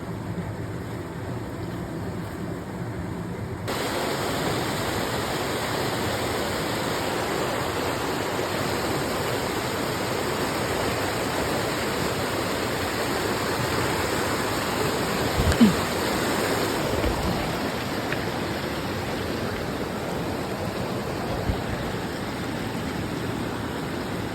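The Kailash river in Achham district, Nepal, rushes steadily and loudly close by, a constant broadband roar of flowing water with a faint splash or knock partway through.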